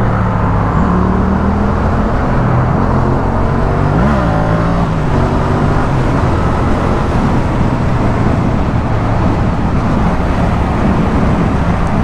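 Yamaha XSR700 motorcycle ridden through city traffic, a loud steady engine drone with wind rush close to the rider, pitch rising and falling slightly mid-way as the bike changes speed, no talk heard.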